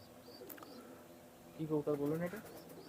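Teddy pigeons, young adult runners kept for sale, give a soft low cooing burst near the end, with faint chirps and room noise earlier.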